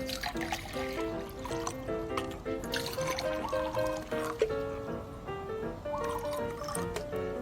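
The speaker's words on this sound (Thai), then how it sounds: "เราจะเติมด้วยน้ำเปล่าอีกครั้งหนึ่งนะคะกับเมทอกซ์นะคะ" Plain water being poured to mix with Metox, a steady trickling and bubbling fill running throughout, close and moderately loud with no talk.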